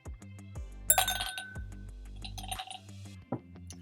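Glenmorangie 13 Cognac cask finish whisky poured over an ice cube in a glass gives a few clear clinks and small liquid drips and splashes, close and quiet with no talk.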